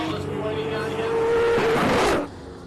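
Wade van Zumeren's hill climb race car at the Simola Hillclimb King of the Hill, a loud sustained engine howl that rises in pitch as the car accelerates and then drops away sharply.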